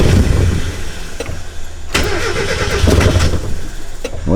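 A Mazda Miata engine fitted with Megasquirt cranks, catches and runs loud and close, then settles into an uneven, rough idle with irregular stumbles.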